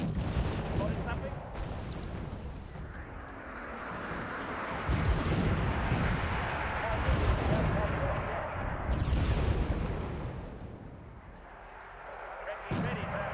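Artillery shells explode in Wargame Red Dragon as continuous heavy rumbling blasts roll and swell across the battlefield, with voices talking over the din throughout.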